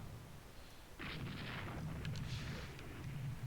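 Airstrike explosions in the naval strategy game Rule the Waves 2, a sudden rolling roar of blasts that swells and holds steady at moderate volume, with no talking.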